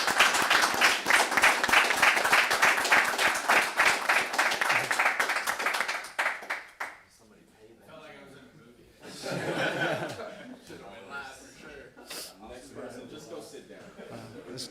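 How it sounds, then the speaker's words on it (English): A room of executive protection training students claps for themselves and their instructors, a dense, steady round of applause lasting about six seconds before fading into scattered laughter and talk. "let's give a round of applause for each and every one of us and for our instructors"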